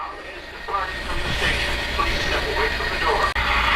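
A Polar Express toy train with a bell flatcar runs on its track, rumbling and clicking close by at low volume, with a sharp click near the end.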